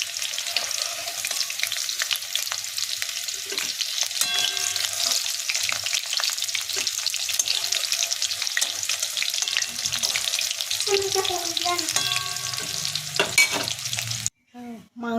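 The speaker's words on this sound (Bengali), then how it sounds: "এই যেমন মাংসটা আমার লাল লাল করে ভাজা হয়ে গেছে," Chicken pieces for chili chicken frying in hot oil, a dense continuous sizzle with clinks and stirring knocks throughout, close by, ending in an abrupt cut near the end, no voices.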